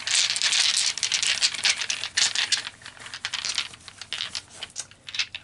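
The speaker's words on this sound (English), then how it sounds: "So let's pull you guys some tarot dice." Tarot dice shaken and tumbled during a tarot reading, giving a dense, continuous clatter of small rattling clicks that fills the clip at close range, with no voices.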